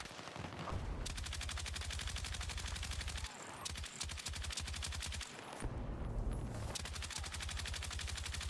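Machine-gun fire in Battlefield 6, long rapid bursts of close, loud automatic shots that keep a fast steady rhythm, separated by brief pauses, with no talk.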